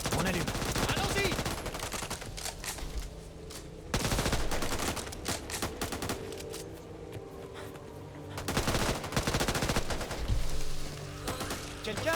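Gunfire in the co-op zombie shooter Back 4 Blood, with rapid automatic bursts and heavy shots coming in loud clusters, separated by short lulls of game ambience.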